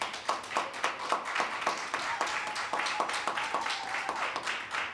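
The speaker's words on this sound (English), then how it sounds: "You can give a round of applause for that." Modest applause from an audience at a church lecture series event as a singer is called to the stage, a small group clapping at moderate distance with a fairly steady rhythm.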